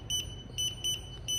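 A wireless Bluetooth meat thermometer gives four short, high electronic beeps in an even, quick rhythm, clear and close against a quiet room.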